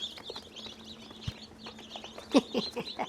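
A box of baby chicks gives off soft peeps and high chirps, scattered at first and then a louder cluster near the end, heard close up with a faint background hum and no talking.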